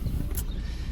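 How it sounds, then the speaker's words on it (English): A single sharp click from the front driver's side brake caliper of a Nissan 240SX as the brakes are lightly touched, brief and distinct over a low, steady rumble. "there's a click when you touch the brakes"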